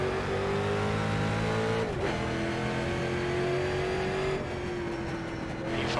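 Street stock race cars roar in an iRacing sim race, a steady loud engine drone holding pitch, dipping at a shift, then climbing again as the pack runs together.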